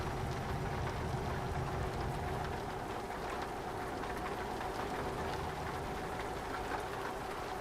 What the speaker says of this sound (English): Rain on the windshield.